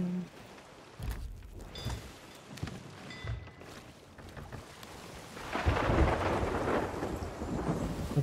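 Thunderstorm at sea in the pirate game Sea of Thieves: low rumbling thunder rolls in bursts, and from mid-clip a steady wash of heavy rain builds and holds, fairly close and loud.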